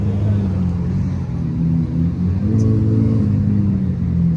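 A Nissan S14 fitted with a 2JZ engine idles and revs at a JDM car meet in Florida, giving a steady, loud, deep engine rumble close by that swells slightly toward the end.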